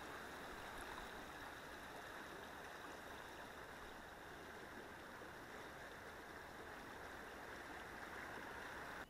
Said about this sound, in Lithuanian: Čia Nevėžio upė.